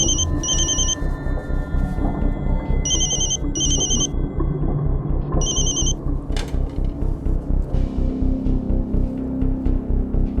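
A telephone rings in repeated double bursts and goes unanswered, over a steady low rumble of background noise.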